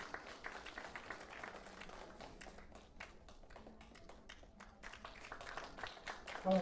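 Audience in a lecture hall clapping for a guest professor's special lecture, a soft, steady patter of many hands throughout, distant and fairly faint.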